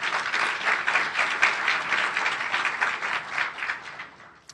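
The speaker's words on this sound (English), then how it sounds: "yourselves a round of applause." An audience at a rural leadership assembly gives a round of applause, a dense continuous patter of many hands that holds steady, then gradually fades toward the end.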